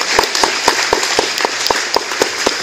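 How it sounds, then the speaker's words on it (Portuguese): A church congregation claps in a steady rhythm of sharp, evenly spaced hand claps, loud and close, with no talking over it. "Vamos aplaudir a palavra de Deus"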